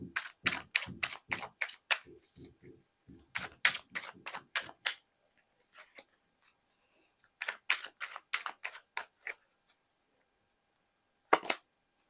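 Tarot cards are shuffled and drawn at close range in quick rhythmic runs of sharp, clicky slaps, several bursts separated by brief silences, ending with a single isolated snap, with no talking.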